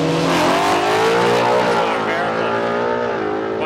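A Ford Falcon drag car howls down the strip at Palmyra Raceway, its engine note climbing loud and close then easing off as it passes, with faint voices underneath.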